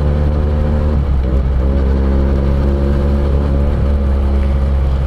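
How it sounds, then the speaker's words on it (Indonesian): A Benelli TNT 249 S motorcycle's two-cylinder engine with 360-degree firing runs loud and close, giving a steady droning hum with brief dips in pitch as the revs shift. "Dan yang paling saya suka dengan mesin 2 silinder dengan derajat pengapian 360 derajat, suaranya ini loh"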